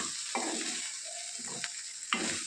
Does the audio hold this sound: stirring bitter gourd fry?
yes